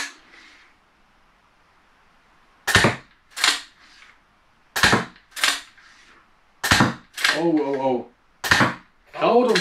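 Several sharp crossbow shots from a Steambow Stinger with a 35 lb limb, striking a target at very short range, come as loud snapping cracks spaced a second or two apart, with German speech between and after the shots.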